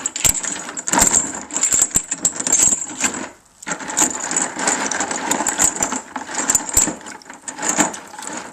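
Chain dumped into a trailer bed, a loud jumble of clanking, rattling metal links in rapid irregular bursts that pause briefly midway and then resume.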